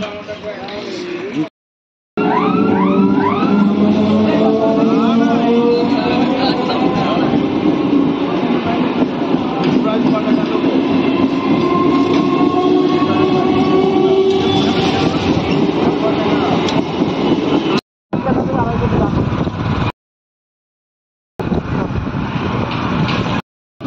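A train rolls past a railway level crossing: a loud, sustained rumble with clattering wheels and squealing metallic tones lasts most of the stretch, broken by a few brief cuts to silence.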